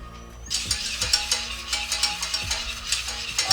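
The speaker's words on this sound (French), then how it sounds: "On va mélanger." A spoon or whisk stirs a strawberry cream mixture of sugar and gelatin in a pot near the boil, giving repeated close scraping and swishing strokes in a steady rhythm with faint clinks, no voices.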